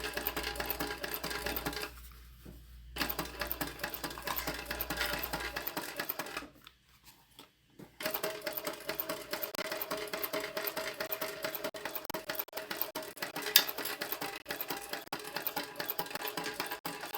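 A sewing machine runs steady bursts of rapid stitching along the exterior side seam of a tote bag at a 3/8 inch seam allowance, with two short pauses before it resumes and carries on close and even.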